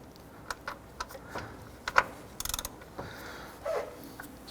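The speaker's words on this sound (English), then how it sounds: "Let's torque down our bolt here to 35 foot-pounds." Torque wrench clicking as a serpentine belt tensioner bolt is tightened to 35 foot-pounds on a 1993-1997 Ford Ranger, quiet scattered ratchet ticks and a short rapid burst of clicks up close.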